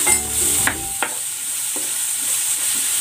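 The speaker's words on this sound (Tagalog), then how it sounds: "Gigisa na ako ng bawang." Garlic sautéing in a pan, a steady bright sizzle running throughout with a few clanking stir strokes early on, close and without talk.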